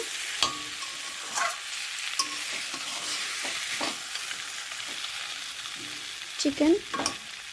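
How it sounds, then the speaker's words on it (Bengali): Chicken frying in a pan gives a steady close sizzle, broken by the scrape and clink of a utensil as the pieces are stirred, with a few louder knocks near the end. "চিকেনটা ফ্রাই করা হচ্ছে ভালো করে।"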